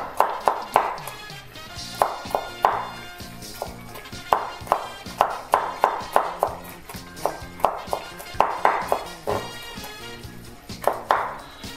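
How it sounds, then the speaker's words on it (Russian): Garlic cloves crushed and chopped with a knife on a cutting board while making borscht, giving a series of sharp, close taps in an irregular rhythm, with no talking. "У меня здесь 5 зубчиков чеснока. Мы их вот так ножичком подавили."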